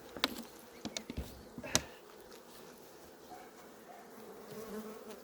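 Honeybees drone in a soft, continuous buzz, with a few sharp clicks and knocks near the start, then a calmer hum.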